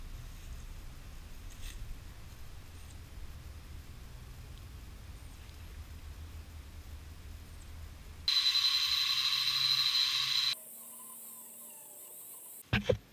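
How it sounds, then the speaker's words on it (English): An angle grinder fitted with a wire brush strips loose, flaky paint from a wooden pedestal table outdoors. The harsh, steady whir and scrape comes in two short loud bursts after a long quiet stretch of faint background. "I'm going to be using the grinder, the wire brush chucked in it."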